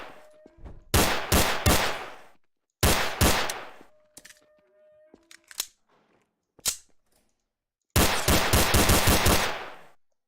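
Gunfire from a weapon in the video game Garry's Mod, with rapid bursts of automatic shots in three loud groups and a few sharp single shots between, no talking.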